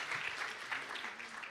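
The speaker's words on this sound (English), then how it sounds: "Ladies and gentlemen, a big round of applause for Minister Ashwini Vaishnaw." Audience at a startup awards ceremony applauding a government minister, a short stretch of steady crowd clapping, soft and somewhat distant.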